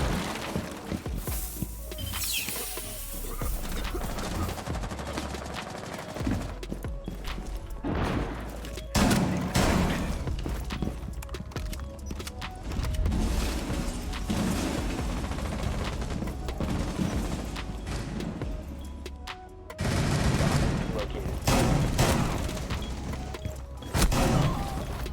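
Shotgun blasts and gunfight clatter in Rainbow Six Siege, heavy booms and crashes scattered through a dense, busy mix with impacts and mechanical noises, continuing throughout.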